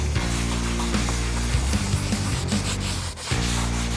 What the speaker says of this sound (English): we're gonna apply that directly to our vinyl and all of our leather surfaces